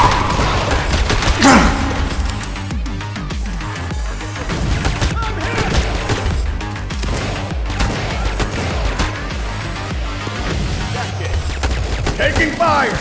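Dense gunfire rattles through a match of the mobile shooter Modern Strike Online in a pistol-only fight, with loud, continuous bursts and volleys, and game voice lines sound over the shots.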